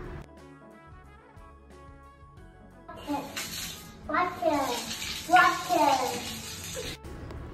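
Water running in a bathroom, a soft steady splash and spray beginning partway through and continuing beneath a child's and an adult's voices talking over it.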